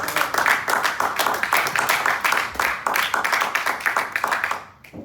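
Church congregation clapping loudly in praise to the Lord during a sermon, a strong sustained round of many hands with rhythmic pulses, fading near the end.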